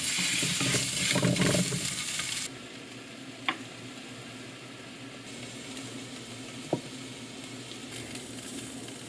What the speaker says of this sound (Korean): 그래서 양파를 볶아야 돼요